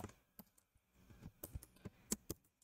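Keys clatter on a computer keyboard while HTML is being entered, in short irregular bursts of sharp clicks and taps with brief pauses between them, close and fairly quiet.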